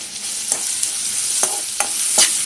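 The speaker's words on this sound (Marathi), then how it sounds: "तेल तापलं आहे. कांदा घालूया, थोडंसं मीठ टाकूया" Chopped onion with a little salt frying in hot oil, a close steady sizzle broken by a few sharp stirring scrapes and crackles, no voices.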